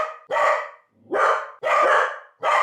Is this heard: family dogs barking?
yes